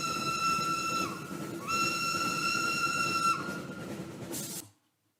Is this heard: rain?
no